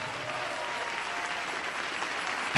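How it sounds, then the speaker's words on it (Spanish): Steady, dense clapping from a church congregation fills the whole short stretch, even and sustained, with a slight surge at the very end. "Denle ese aplauso al Señor Jesús."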